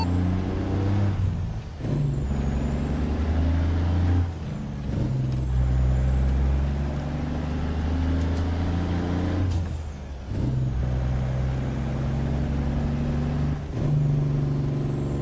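A simulated truck with a 12-litre engine in American Truck Simulator rumbles loudly and steadily, its low drone broken by several sharp hissing air-brake releases spaced a few seconds apart.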